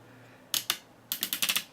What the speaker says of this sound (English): nice clicky ratchet joints at the shoulders